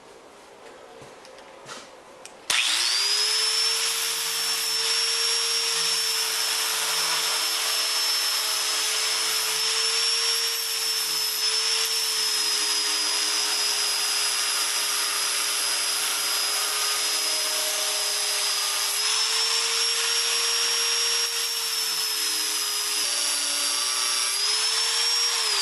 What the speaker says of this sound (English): to put a little bit of a bevel on it, I'm just going to use the flapper disc